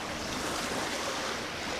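Waves wash onto a Lake Michigan beach in a steady, soft surf roar, with wind buffeting the microphone and no voices.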